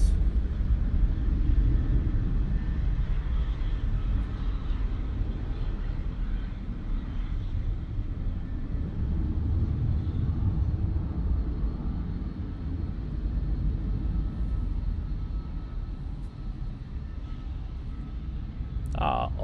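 A Ryanair airliner departs Manchester Airport on a wet, windy day, its broad engine roar rumbling steadily and fairly loud throughout, mixed with wind noise, with no talk over it.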